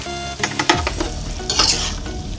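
A spatula stirs sizzling stir-fried broccoli and carrots in a pan as a cornstarch slurry goes in, with scraping strokes over a steady loud frying hiss.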